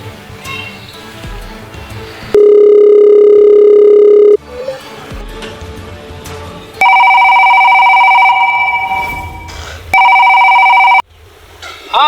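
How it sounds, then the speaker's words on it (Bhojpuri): Phone call tones during a Bhojpuri comedy scene: a long steady dial-type tone, then two loud electronic ringback bursts between stretches of background music and sound, each tone holding for a few seconds. "रुक फोन करते ना भाई"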